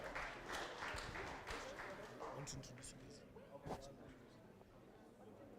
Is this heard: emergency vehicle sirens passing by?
no